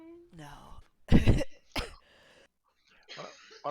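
Several short, harsh coughs and throat clearing from a person, close and fairly loud, separated by brief pauses with a bit of nearby voice.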